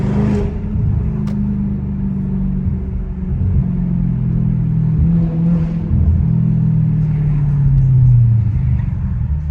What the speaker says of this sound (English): The echo on these buildings right now, bruh, off of this exhaust, is nuts.